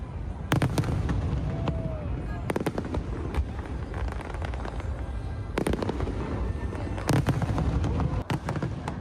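Fireworks bursting at Singapore's 60th National Day celebration, a series of sharp booms and crackling pops arriving in clusters over a constant crowd and ambient rumble.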